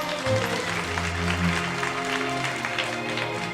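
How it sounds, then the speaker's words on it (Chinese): Applause in a church worship service, a dense steady patter of many hands clapping for about three seconds over a sustained tonal hum from instruments in the room. "我们先把掌声献给我们在天上最大的父"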